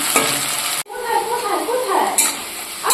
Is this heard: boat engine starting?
no